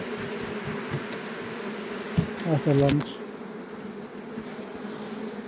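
Honeybees swarm around an opened hive during an October pine-honey harvest and colony check, a continuous close buzzing with a brief louder, rising buzz partway through, while a voice speaks briefly.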